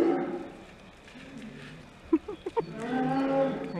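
Bear cubs give low, drawn-out moo-like calls for milk, then a quick run of short, sharper bleats, with a louder call rising near the end. No one speaks.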